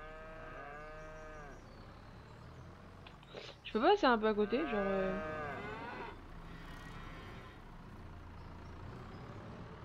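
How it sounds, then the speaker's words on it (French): Cattle in a farm field during corn sowing give a loud, wavering moo with a few stepped calls in the middle, over a steady low vehicle rumble, with a person talking before and after. "Là, j'ai des vaches et tout devant."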